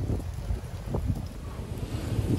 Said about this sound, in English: We are now walking uphill into the wind.